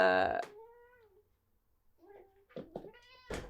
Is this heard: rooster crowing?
no